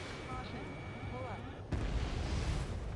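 A ground target blows up in the Ace Combat 7 combat flight game, a sudden loud boom at about the midpoint that swells into a sustained rumbling roar over continuous game noise, with radio voices talking beforehand.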